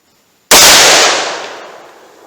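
After a brief quiet moment, one sharp, very loud .357 Magnum round cracks from a Sig Sauer full-size handgun at a 7-yard target, fired single action, followed by a long echoing decay.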